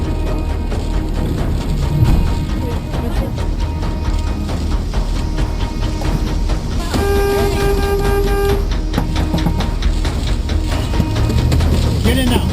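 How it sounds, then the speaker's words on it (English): A storm-chasing tour van's horn gives one sustained honk lasting about two seconds, loud and near, amid wind noise and outdoor commotion during a tornado approach. "The tour leader immediately honks his horn to get the group back in the van."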